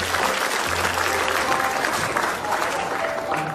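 An audience bursts into sustained applause at a televised Indonesian comedy show, dense clapping that fills the whole stretch evenly, with faint voices beneath it.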